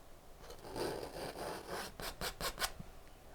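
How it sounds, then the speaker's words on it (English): A palette knife scrapes excess oil paint off a canvas in short rasping strokes, close and moderately loud, quickening toward the end. "I want to scrape off most of the excess paint."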